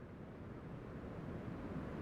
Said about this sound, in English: kind of like a rise and fall in the waves.